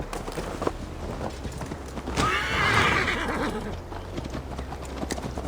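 A horse in Assassin's Creed Valhalla gallops with steady hoofbeats, letting out a clear whinny midway, heard fairly close over ambient game sound.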